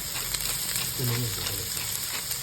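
Chicken liver and gizzard adobo with black pepper sizzles steadily as it is stirred in a pan, a dense close frying hiss under a brief low hum of speech in the middle.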